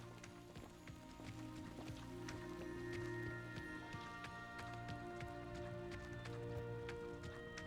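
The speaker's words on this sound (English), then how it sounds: "I can tell that it's raining" Rain falling in the Hogwarts Legacy video game, a steady patter and drip across the surface with scattered droplet ticks over a low hum and music, continuous and moderately faint.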